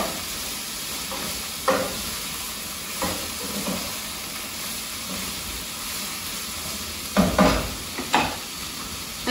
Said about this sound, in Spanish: Mientras seguimos meneando aquí la cebolla con los chiles.